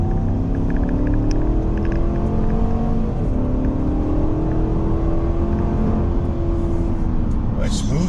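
A 2021 Chevrolet Tahoe accelerates up a highway on-ramp, a steady interior engine and road drone rising through smooth gear changes, with voices talking over it.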